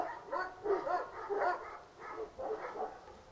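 Several dogs barking outdoors in a natural setting, a run of muffled, fairly distant barks and yips in irregular bursts over a few seconds.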